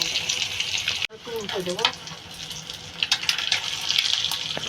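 Halved boiled eggs frying in hot oil with green chillies give a constant sizzle, broken by a sharp clatter and a few brief scraping or stirring sounds.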